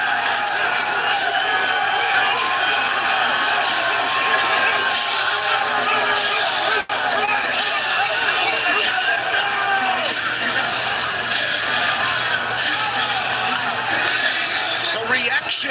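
A dense arena crowd at a UFC event roars and cheers steadily for John Silva, loud and sustained throughout, with music and scattered whoops mixed into the constant hubbub.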